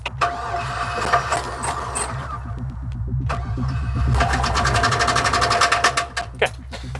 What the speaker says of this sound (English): Oh, this thing sounds terrible.